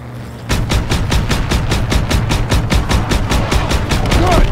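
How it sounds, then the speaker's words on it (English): Sustained automatic gunfire from the WWII-era shooter Call of Duty: WWII, with rapid, evenly spaced shots repeating loudly and continuously for several seconds over low battlefield rumble. "Keep firing!"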